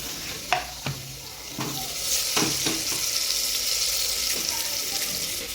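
Mutton pieces dropped into hot oil with turmeric and salt for a village-style mutton curry, giving a steady close sizzle with a few clattering stirs and knocks of a utensil early on.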